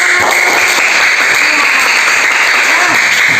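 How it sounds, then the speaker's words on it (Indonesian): Dense, steady applause from a classroom of students clapping for a group after their presentation, a continuous loud patter of many hands with no break. "tepuk tangan buat kelompok 3"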